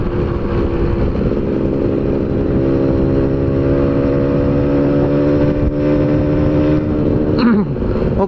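Motorcycle with a ported two-stroke exhaust accelerating in fourth gear, a loud, close, buzzing engine note holding steady and rising slightly before a quick shift near the end.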